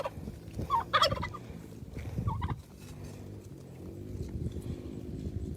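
A pet turkey gobbles in short bursts close by on a ranch, with some quieter clucking calls and faint background noise between.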